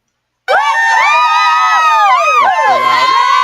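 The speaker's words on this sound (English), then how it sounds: "all the men were cheering for you" A recording of a crowd of men cheering and whooping plays back loud and close, abrupt onset into overlapping shouted voices with rising and falling yells throughout.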